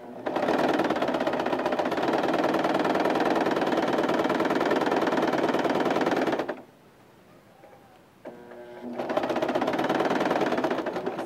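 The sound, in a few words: sewing machine stitching down shirred summer dress straps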